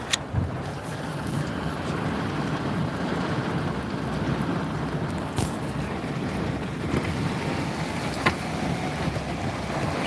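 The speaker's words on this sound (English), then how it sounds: "we're getting super rained on right now" Heavy rain pounding against a window of a three-story building, a loud continuous hiss and roar with gusty wind noise, steady throughout with no talking.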